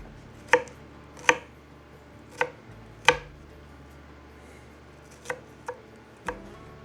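A knife chops through an onion on a cutting board: about seven sharp, close, irregularly spaced chops with short pauses between them, and no voices.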